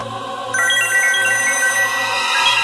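A mobile phone rings with a loud, bright electronic ringtone. A repeating melodic tone starts about half a second in and continues steadily to the end, with no talk.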